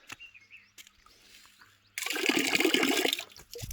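Fresh mountain water in a Nepal eco village gushes out loudly and abruptly halfway through, a splashing rush after quieter rustling and faint background sounds.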